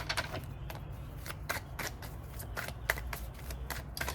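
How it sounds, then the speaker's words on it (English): Tarot cards are shuffled close up in a quick series of crisp riffles and flicks, repeating rhythmically over a quiet background. "let me just go ahead and shuffle some cards"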